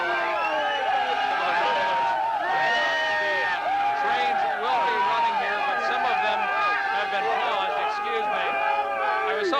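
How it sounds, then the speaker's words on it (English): A New Year's Eve crowd heading back from Times Square through Penn Station in New York, a loud, close babble of many voices with shouts and whoops, steady throughout. "This is some of the crowd that is heading back from Times Square."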